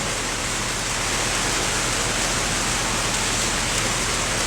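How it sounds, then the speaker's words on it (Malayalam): Steady rain falling, a dense continuous hiss of even loudness with no breaks and no voices over it. "ഇപ്പോൾ മഴയാണ്"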